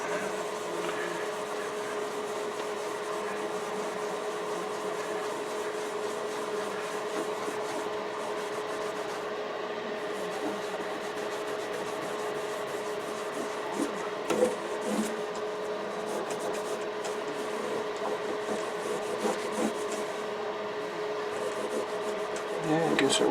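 A soft, steady rubbing and wiping sound comes from conditioner being worked into an Ovation Celebrity acoustic guitar's fingerboard, close, under a constant background hum.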